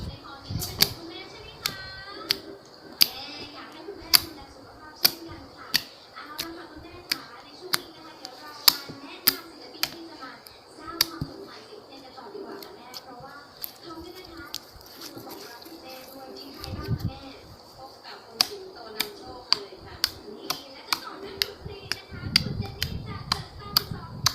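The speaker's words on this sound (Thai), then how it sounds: "เราจะมาฟังเสียงจิ้มกันเลย" Repeated sharp poking taps on a surface, spaced irregularly about once a second, close and crisp over a faint background hum, with brief soft murmurs of a voice in places.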